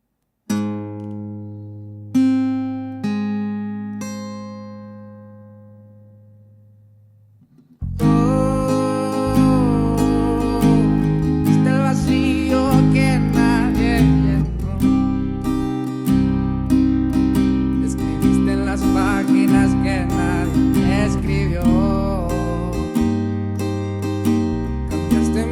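A guitar strumming demonstration for a requinto tutorial, with a few single plucked notes left to ring and fade, followed by a steady, dense rhythmic strum that continues loud and even to the end.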